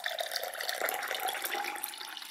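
Water pours from a massive jug in one continuous, splashing stream that stays fairly loud and steady from start to finish.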